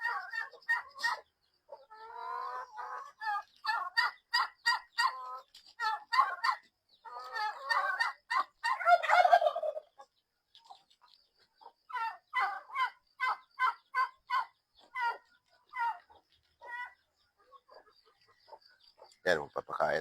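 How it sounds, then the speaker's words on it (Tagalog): Eight small chickens let loose in a backyard farm cluck and chatter in quick, rhythmic bursts close by, with a louder squawk near the end and occasional pauses between calls. "pinakawalan ko pala yung mga manok na maliliit"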